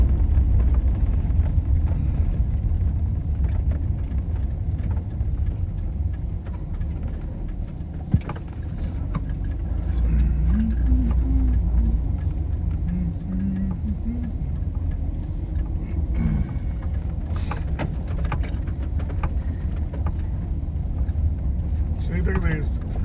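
A car rolls slowly through a desert campground at Organ Pipe Cactus National Monument in Ajo, Arizona. Its steady low engine rumble and road noise run under a voice that talks over most of the drive, with small ticks and clicks scattered throughout.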